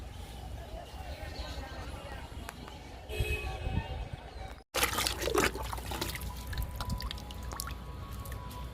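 Liquid poured onto garden plants, a soft trickle and splash of water running over leaves and soil outdoors, moderately close, with background noise and brief handling sounds around it.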